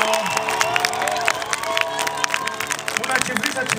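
A street crowd at a memorial concert in Valle de Chalco claps and cheers, with whistles and shouts rising over a hum of music and a loud voice speaking through the din.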